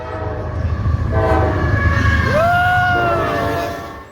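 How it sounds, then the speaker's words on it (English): A loud freight train horn blares with sustained tones over rumbling rail noise, holding steady before fading out. "It's coming like a freight train."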